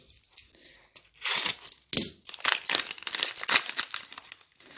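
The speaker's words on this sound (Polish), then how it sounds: "A więc teraz otworzymy sobie monetę." Plastic packaging crinkles and tears in close bursts as a commemorative coin marking the 50th anniversary of the moon landing is unwrapped, irregular loud rustles separated by short quiet gaps.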